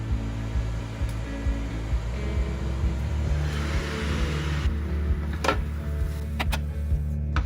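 A Ninja air fryer with onions inside runs with a steady fan whir and low hum, with a few faint clicks and taps near the end.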